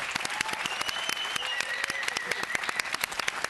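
Audience at a youth leadership debate competition claps for a winning contestant, a quick burst of sharp, closely spaced individual claps from a modest crowd.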